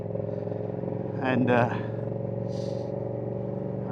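A Yamaha R7 motorcycle with a new loud aftermarket exhaust rumbles steadily while riding, with a short louder surge of engine noise in the middle. A rider talks over it.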